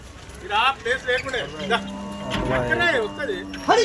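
Cows moo repeatedly at the Kondamadugu cattle market, several drawn-out lowing calls close by, mixed with people talking and general market bustle.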